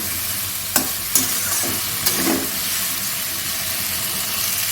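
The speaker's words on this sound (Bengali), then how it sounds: "একটু ভালো করে কষিয়ে নেব" A pasted spice mixture for bata fish curry sautés in a pan with a constant close sizzle and hiss, broken by a few sharp scraping knocks from stirring.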